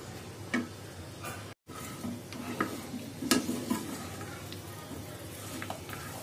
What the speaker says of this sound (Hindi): प्याज वाले मसाले में हमारे चिकन को ऐड कर देंगे और उसे 2 से 3 मिनट भून लेंगे।